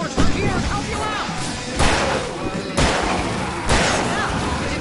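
Loud gunfire in the video game Alan Wake, with four heavy booming shots spaced about a second apart, each followed by a ringing tail over background game noise.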